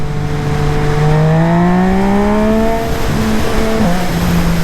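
A Yamaha MT-09 SP motorcycle pulls hard in second gear around 6000 rpm, its loud, steady engine note climbing in pitch, then dipping briefly and rising again close by.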